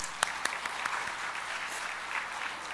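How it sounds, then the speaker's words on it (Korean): A church congregation at a Sunday evening service claps together, a few sharp early claps giving way to a steady, moderately quiet patter of many hands. "멋진 하나님 주님께 박수."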